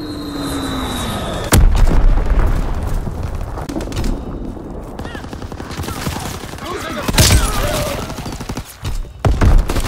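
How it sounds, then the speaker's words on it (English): Loud booms, blasts and rapid gunfire in a WW2 multiplayer shooter battle, with one sharp explosion early and further heavy bursts later over a constant rumble of combat. "Blitz explosion on the way."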